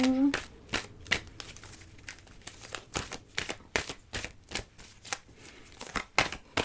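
A deck of playing cards is shuffled by hand in quick, repeated riffling bursts, crisp and close, with a short tone at the very start.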